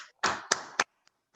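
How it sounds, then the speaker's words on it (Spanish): A few sharp hand claps, three loud close bursts in quick succession followed by a faint tap, as a church congregation applauds at a spring celebration service. "Démosle un fuerte aplauso al Señor por tu vida."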